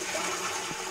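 A toilet flushes in the video game Internet Cafe Simulator 2, a short rushing gush of water heard alone at moderate level.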